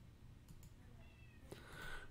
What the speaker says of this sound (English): You might hear my cat crying in the background.